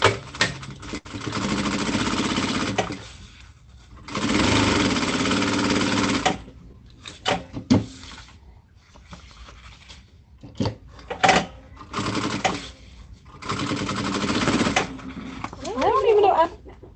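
Sewing machine stitching a custom tote bag in repeated bursts of rapid, close, mechanical whirring lasting a few seconds each, with short pauses between runs and a person talking over parts of it.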